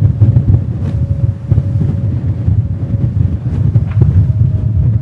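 A sailboat pounds through choppy water at over 20 knots, with steady loud wind and rushing water, periodic thumps as the hull hits the chop, and a faint sustained hum throughout.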